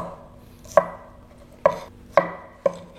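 A knife chopping pieces of potato on a cutting board in a kitchen, four crisp separate thuds at an uneven pace, close and fairly quiet, with no talking.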